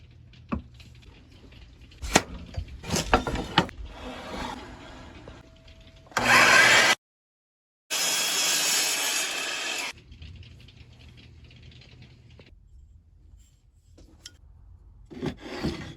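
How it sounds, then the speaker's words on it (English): A hole saw in a drill cutting through a wooden dowel block: two loud rasping bursts of grinding separated by a short pause, framed by quieter knocks and handling noise. "The extra ½ inch above the hole saw allows the hole saw to cut straight and without blowing out the side."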